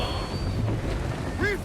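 Wind gusting over a sailing ship at sea in the Assassin's Creed Black Flag video game, a steady broadband rush with faint chime-like tones near the end, under a voice.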